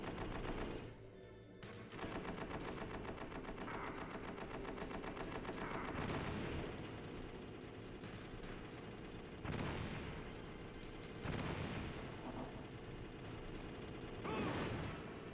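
Sustained machine gun fire in Metal Gear Solid, long loud rattling bursts with heavy impacts and in-game effects, nearly continuous with only brief gaps.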